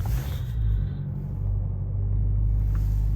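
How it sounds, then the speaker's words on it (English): A Mercedes-AMG C43 4MATIC saloon's engine fires up, with a deep low rumble swelling and then settling into a steady, heavy idle, close by and alone without talk. "Now let's start the car."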